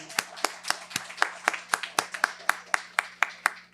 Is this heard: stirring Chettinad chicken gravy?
no